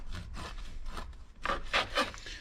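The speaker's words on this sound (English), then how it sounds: "And once the crusts are off, I will tear it into pieces." Crusts are trimmed off bread and the loaf is torn into pieces by hand, a series of soft, close rasping and ripping sounds, quiet, with the louder tears coming toward the end.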